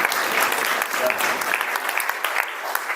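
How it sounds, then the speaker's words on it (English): Audience applause at an ISKCON Sunday feast in Phoenix, a sustained, dense clapping from a sizeable crowd, fairly close and loud, tapering slightly toward the end. "Please give her a big round of applause."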